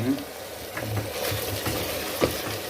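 Ground meat sizzles and crackles as it browns in a pan, a soft steady frying hiss with a few stirring scrapes, while someone speaks nearby.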